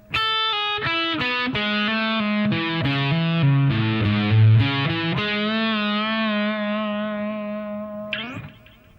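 Electric guitar with distortion plays a melodic phrase of quick picked notes ending in a half-step bend up and back down, loud and close with a sustained tail, no talking.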